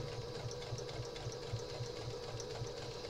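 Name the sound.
sewing machine stitching a quilt block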